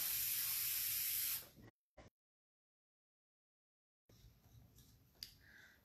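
Sealer sprays onto a glitter tumbler in one close, loud hissing burst that stops abruptly. Silence follows, then quiet handling noises.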